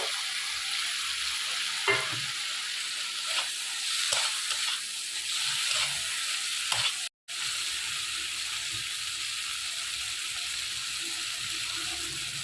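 Taro stolons go into a hot pan for a spicy Bengali curry with prawns, giving a steady, loud frying sizzle throughout, with occasional stirring scrapes and a brief dropout partway through, and no talking.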